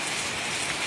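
Steady rain pours down at home, a dense, even hiss of drops striking surfaces that holds unbroken throughout, with no voices.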